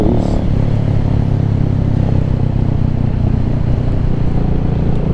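Venom Ghost Chopper 250 motorcycle engine on a short ride: a loud, steady low rumble with wind and road noise throughout, no speech.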